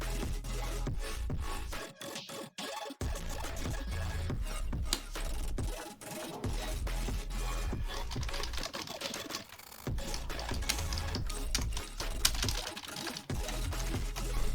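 Typing on a Flipkart SmartBuy K931T wireless multi-device keyboard gives a quiet, steady run of clacky, typewriter-like keystrokes, close up, with short pauses between bursts and no speech.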